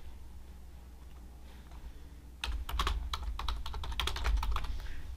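Fingers type on a computer keyboard to rename a plan in Microsoft Planner, a quiet near patter of irregular key clicks that begins after a stretch of low room hum and continues to the end.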